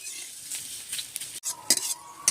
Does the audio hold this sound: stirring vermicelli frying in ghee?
yes